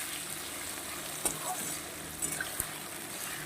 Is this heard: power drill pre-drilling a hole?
no